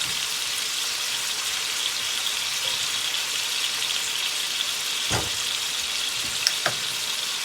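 Venison steak and bok choy fry on a stove, giving a steady, close sizzle with a few faint clinks and stirring taps.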